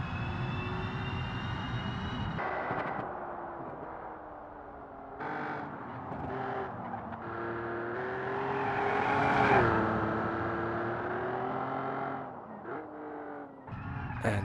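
A GT race car's engine roars through a driving video game in the Automation campaign, revving and shifting continuously, pitch sweeping up and down through gear changes with brief lifts around corners, loud and close with no talk.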